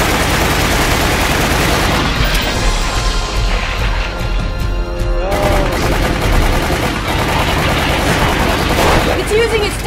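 Loud gunfire aimed at a tentacled monster in Resident Evil Umbrella Chronicles: dense, rapid bursts of shots with crashing impacts, nearly continuous and close, with a brief lull midway.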